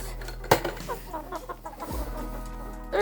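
Big chickens in a warm coop on a winter morning, clucking in short bursts near and far with a sharp burst near the start, over a low steady hum, shortly before feeding.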